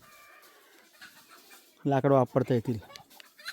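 Village hens roaming a yard in the Konkan cluck in a short burst of loud, close calls after someone speaks briefly.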